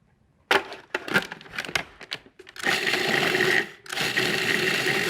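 A food processor pulses chilled butter pieces into a ground chocolate crumb mixture, several short whirring bursts followed by two longer loud runs with a brief gap between them.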